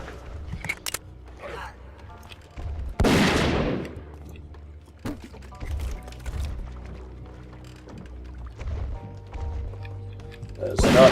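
Gunfire while shooting enemies in the video game Zeno Clash comes as scattered sharp bursts and single shots at moderate volume, with quieter game sounds between them.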